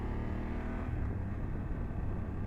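A BMW F800GS motorcycle engine drones steadily in third gear at about 40 mph, a continuous, even, close hum with wind noise and no change in pitch.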